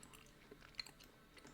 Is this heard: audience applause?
no